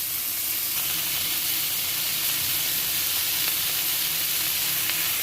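Potatoes and vegetable stems frying in a pan for a poppy-seed curry, giving a steady, even hiss and sizzle with faint scraping from stirring, close and uninterrupted.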